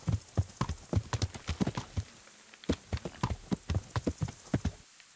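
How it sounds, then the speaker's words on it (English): Horse hooves clop steadily in Kingdom Come: Deliverance, a close, regular walking rhythm of crisp thuds with a brief pause midway, over a faint background hum. "Oh, that's my horse there."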